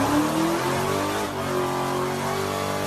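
A car's engine revs hard and continuously during a burnout with smoke pouring off the front wheels, a loud sustained roar with rising and falling pitch, no talking.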